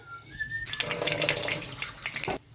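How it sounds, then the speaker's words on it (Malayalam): Mustard seeds splutter and crackle in hot oil for a mango curry, a burst of sizzling popping that swells suddenly, holds for under two seconds, then cuts off, after a faint whistle-like tone. "കടുക് പൊട്ടി"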